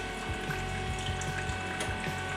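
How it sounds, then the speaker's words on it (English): A Brasilia Festa espresso machine's fresh milk module runs its rinse cycle, cold water flowing through the thermal block and texturizing unit with a steady close rushing, pump hum and faint rhythmic pulsing, no talk. "So you can hear the cycle, picking up the cold water, rinsing through the thermal block and the texturizing unit system inside there"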